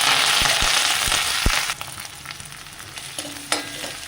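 Chopped onion, green chillies and curry leaves drop into oil with spluttered mustard seeds, bursting into a loud frying sizzle with a few sharp clicks, then settling into quieter crackling as a spatula scrapes and stirs.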